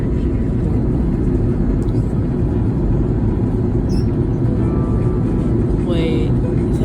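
Inside the cabin of a Hawaiian Airlines Airbus A330 landing at Honolulu, a loud, unbroken low engine and airflow roar fills the space with no pauses.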